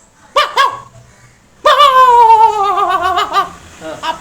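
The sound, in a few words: voice imitating a small dog barking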